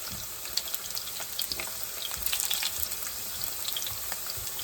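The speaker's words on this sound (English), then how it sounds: "I'm gonna put my potatoes in my skillet here." Potatoes fry in a skillet with a soft, steady crackle and light popping, faint and continuous throughout.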